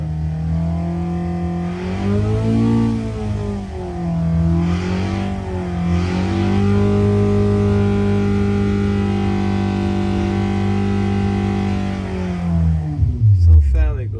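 A V8 engine revs on a dyno, droning steadily and loudly with rising and falling pitch early on, then holding a sustained high rev before cutting off near the end; it may be misfiring.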